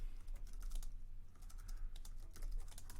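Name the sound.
typing on a computer keyboard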